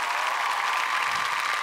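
Steady audience applause for an actor in a Marathi television serial cast, an even, continuous wash of many hands clapping with no break.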